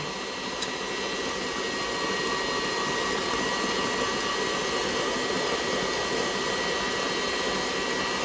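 An old stand mixer whips strawberry Swiss meringue buttercream, its motor producing a steady, loud whirring hum that stays unbroken from start to finish.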